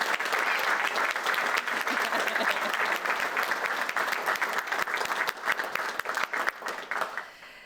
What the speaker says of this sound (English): I would invite the class to please join me in a round of applause for the friends and family